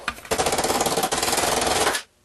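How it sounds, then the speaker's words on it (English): Sheet metal being bent with gentle hammering, a quick rapid run of light metallic taps in steady rhythm, close and fairly loud, pausing briefly midway before stopping abruptly. "a little gentle hammering and that's a lot closer"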